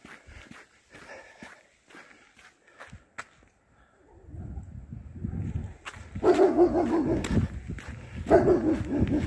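Guard dogs at a rural property bark in loud, close bursts through the second half, after a quieter opening of footsteps along a village roadside.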